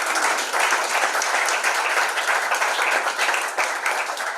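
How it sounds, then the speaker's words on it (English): A room full of people at a national pitch competition in Burundi applauds steadily, the clapping dense and loud without letup. "Let's give them a round of applause."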